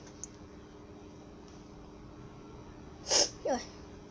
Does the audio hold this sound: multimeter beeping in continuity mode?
no